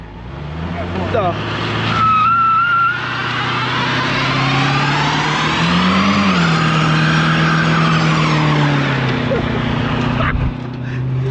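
Loud, sustained tire squeal screeching for several seconds over a roaring, revving 1974 Ford Ranchero 351 Cleveland V8 engine, its pitch rising and falling as the car slides.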